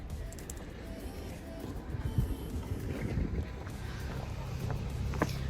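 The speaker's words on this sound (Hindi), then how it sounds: "ठंडी ठंडी हवा चल रही है" Cool wind gusting in the Landour hills near Mussoorie, a low rumbling buffet against the microphone that builds steadily over a few seconds during an outdoor walk.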